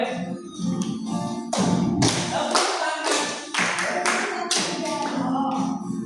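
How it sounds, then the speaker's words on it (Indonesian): Participants at a deep learning training session clap their hands in uneven bursts, sharp taps and thumps overlapping in a lively but moderately quiet patter. "Tepuk tangan aja, ayo"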